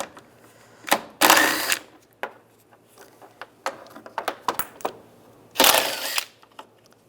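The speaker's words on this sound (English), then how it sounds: "We're going to take these bolts out, use a 10mm socket." Bolts are loosened with a 10mm socket and ratchet on a 1999-2005 Volkswagen Jetta air deflector: two loud, close bursts of ratcheting, separated by a series of short sharp clicks and taps.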